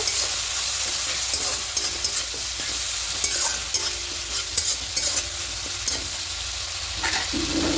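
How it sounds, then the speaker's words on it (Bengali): Cumin and turmeric powder frying in a pan for a Bengali lau chingri, with a steady, close sizzle and repeated scraping spatula strokes throughout, and no voices. "জিরে গুঁড়ো দেবো, হলুদ গুঁড়ো দেবো। খুব ভালো করে একটু কষিয়ে নেব।"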